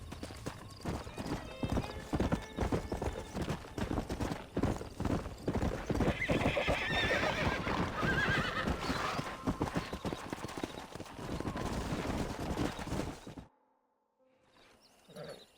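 Horses in the Red Dead Redemption video game whinny and neigh over a dense, continuous clatter of many hooves. The sound stays loud and busy, then cuts off abruptly near the end, leaving faint residual noise.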